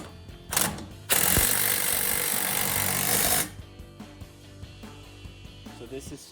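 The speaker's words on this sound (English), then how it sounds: "I'm going to use an impact to get this snug up the best I can" A burst of impact wrench hammering, about two seconds long and loud and close, snugs a bolt on a Class III trailer hitch for a Jeep Gladiator JT, followed by lighter tool clicks and a low background hum.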